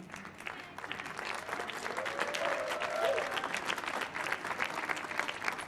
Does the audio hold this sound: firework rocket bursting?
no